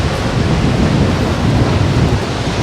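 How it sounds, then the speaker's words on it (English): Strong coastal wind by a beach blasts loudly and continuously, a close, roaring rumble with gusty buffeting throughout and no voices. "Tell you what, this wind can bugger off."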